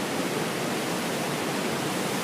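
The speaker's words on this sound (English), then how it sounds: "this big tourist bus is going to come through because he's got the clearance" A big tourist bus pushes through the salty water of Eli Creek on Fraser Island, producing a loud, continuous broadband rush of churning, splashing water.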